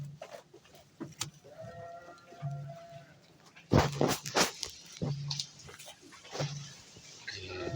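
Javanese goats and sheep bleating while feeding on a farm: scattered nearby bleats, some short and some drawn out, with a louder cluster midway amid rustling and chewing noises.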